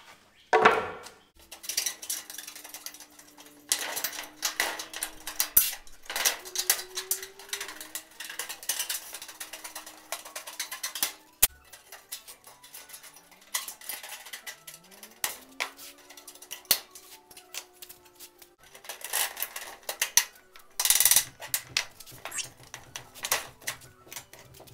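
Metal roofing panel for a standing seam roof is cut in bursts of close, loud crunching and snipping, with scrapes, rattles and a tonal metallic whine between cuts.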